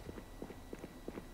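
Footsteps in the Valorant shooter game tap in a quick even rhythm, about ten light steps in pairs, close and clear against a steady background bed.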